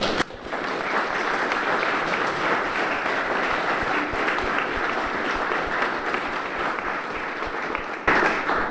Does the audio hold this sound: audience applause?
yes